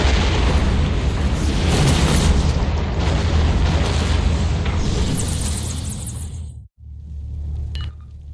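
A loud, sustained explosion in the Batman Arkham Origins Blackgate video game rumbles and booms for several seconds, then cuts off abruptly before a faint tail.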